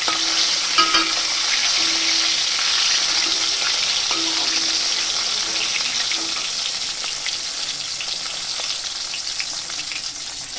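Fish fries in hot oil, giving a dense, steady sizzle with crackling spatters that carry on without a break for the full ten seconds. The pan is close by and no one speaks.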